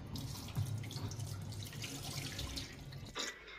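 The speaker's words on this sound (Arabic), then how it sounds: "غتخوي عليها الماء طايب مزيان مغلي حتى تتغطيها كلها" Boiling water is poured over semolina in a kitchen as a steady, close splashing stream that runs for about three seconds, then cuts off.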